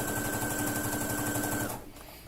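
A sewing machine runs steadily and close while seaming the sides of a drawstring bag, then stops abruptly near the end.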